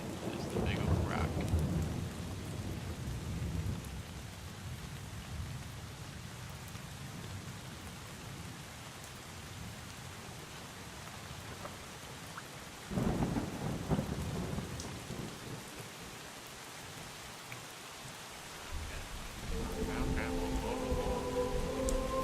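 Rain falls steadily in a stormy outdoor scene in the Drizzlepath video game, with two loud rumbling thunder swells near the start and middle over a constant wash of raindrops.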